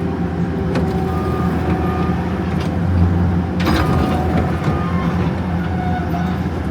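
A Caterpillar bulldozer stuck in gear is towed around, giving a heavy, steady mechanical rumble with a louder clank near the middle.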